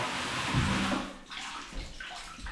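Water running steadily into a shower during a flood test for a leak, a broad continuous rush that softens and thins after about a second, then keeps trickling at a lower level.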